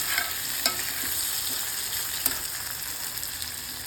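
Onion sautéing in a pan for an okra dish, a steady bright sizzle broken by occasional light stirring knocks.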